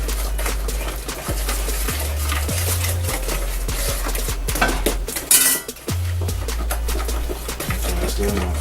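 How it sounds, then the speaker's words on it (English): Breakfast is stirred in a pan at home with cutlery scraping and clinking against metal cookware in a steady run of taps and scrapes, close and fairly loud, with a brief rustle partway through. "Here, stir that up for me, please."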